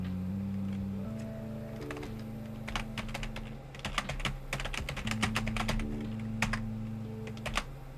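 Fast, steady clicking of computer keys, close and fairly loud, in bursts over a low sustained drone of background game music, with no voices.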